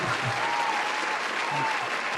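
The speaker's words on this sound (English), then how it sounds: "Now, applause." Steady audience applause at a comedy interview show, a thick continuous wash of clapping hands, moderately loud, with faint voices murmuring underneath.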